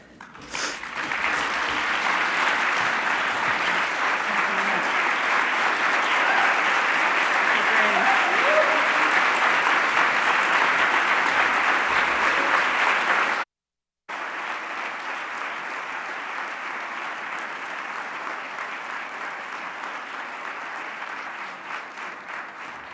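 Conference audience applauding, sustained dense clapping from a large crowd that carries on for over ten seconds, breaks off briefly, then continues more softly and tapers.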